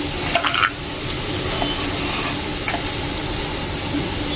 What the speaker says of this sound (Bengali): কুমড়োটা আজকে কুচি কুচি করে নিয়েছি অল্প করেই ভাজছি